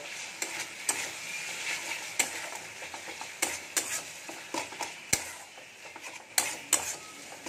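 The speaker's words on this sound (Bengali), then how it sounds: "মশলাটা খুব ভালো করে কষিয়ে নেব।" Spice paste with cumin-coriander powder fried and stirred in a pan, a soft sizzle under frequent quick clicks and scrapes of a spoon against the pan in an uneven rhythm, no speech.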